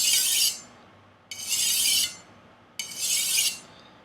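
Three separate angled strokes of a knife edge across a whetstone, each a bright rasping scrape of about half a second to three-quarters of a second. Short gaps fall between them, and no one speaks.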